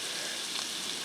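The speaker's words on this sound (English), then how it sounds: "see I got that garlic there, she's sizzling a little bit" Garlic sizzles gently in a pan over heat being lowered, a brief soft, even crackle close by with no other sounds.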